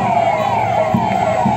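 Sirens of UP 112 emergency Innova and Bolero vehicles wail at a Republic Day police parade in Barabanki police lines, a loud sweeping tone repeating steadily close by.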